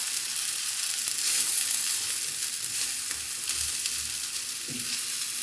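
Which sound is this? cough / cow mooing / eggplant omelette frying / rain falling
eggplant omelette frying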